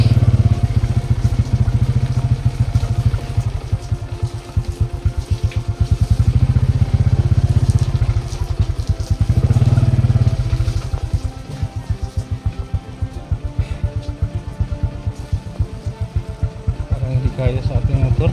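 A lowered motorcycle rides over a slippery road surface damaged by heavy trucks, its engine droning and clattering steadily with bumps throughout while a rider talks over it.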